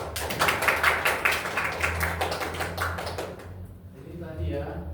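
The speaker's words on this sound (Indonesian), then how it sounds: "Beri tepuk tangan." A classroom of students claps for a good answer during a geography lesson on volcanism, brisk uneven clapping that thins out after a few seconds, with a voice and a low hum beneath.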